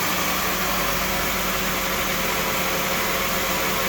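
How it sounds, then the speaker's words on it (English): A 1997 Toyota Camry engine idles steadily at close range with the defroster on, a constant mechanical drone with a faint hum beneath it, no one speaking. "The reason it's idling up and idling back down is because the defroster's on"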